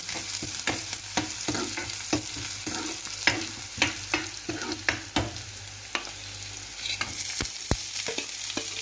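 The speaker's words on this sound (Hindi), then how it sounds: "प्याज को भी थोड़ा ब्राउन होने तक भून देंगे।" Onions sizzle steadily in a hot pan, browning after garlic, broken by a regular series of scraping stirs and light clinks from a utensil.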